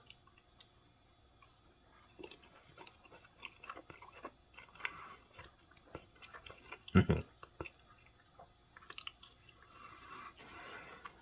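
A mouthful of turkey gravy, egg and biscuit breakfast casserole is chewed up close, soft wet munching and small smacks, quiet throughout with one louder clack near the middle.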